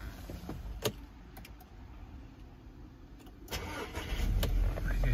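A 2011 Audi A6 Avant 2.0 TFSI turbo petrol engine is heard close up: clicks and a brief whir, then the starter cranks and the engine catches and settles into a louder, steady idle.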